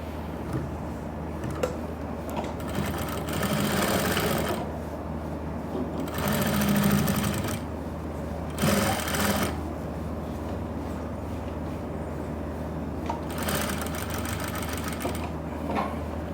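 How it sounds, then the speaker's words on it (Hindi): A sewing machine stitches the front belt onto a pair of trousers, its motor whirring in several steady runs of a second or two, separated by short pauses and soft handling noises. "तो इस बेल्ट को आपने ऐसे करना है और इसको ऐसे करना है, फिर लगानी है सिलाई।"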